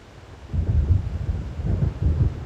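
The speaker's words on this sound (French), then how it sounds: "On dirait qu'un orage approche." Low rolling thunder from an approaching storm in the video game Alan Wake rumbles in deep repeated swells over a steady hiss of rain and wind.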